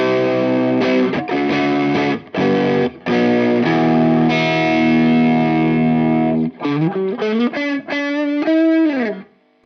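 Electric guitar played through a Tube Screamer overdrive pedal into an Audient Sono, loud, saturated distorted chords and sustained notes, then a run of choppy, bending single-note phrases.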